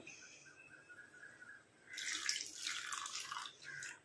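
Water splashes and trickles steadily into a bowl for a couple of seconds, close by, after a quieter stretch of faint dripping.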